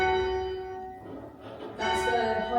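Church bells in the Lydd bell tower ring in an ordinary change sequence, loud and sustained tones overlapping as each bell sounds, heard from inside the tower.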